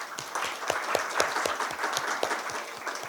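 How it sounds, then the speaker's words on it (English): Conference audience gives the speakers a round of applause, a moderate, steady patter of many hands clapping with individual claps distinct, heard from within the room for the whole stretch. "can we give all the speakers a round of applause for this session?"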